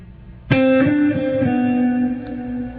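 A distorted electric guitar plays a quick run of picked sixteenth notes and sixteenth-note triplets with a bright, sustained harmonic tone, loud and close, with no voices.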